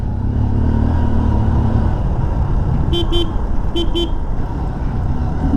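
Motorbike engine rumbles loud and close on a narrow Bhuibawda ghat road in Maharashtra, with a truck approaching and two pairs of short horn toots sounding midway through the steady drone.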